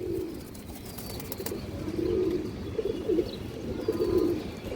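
Soft pigeon coos from a female pigeon repeat in short rolling phrases over a steady low background hum, fairly close and moderately quiet.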